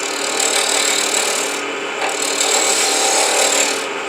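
A wood lathe turns a plywood pendant on a DIY Dux chuck, with a continuous loud scraping and rasping as the tool cuts the spinning wood, swelling and easing slightly.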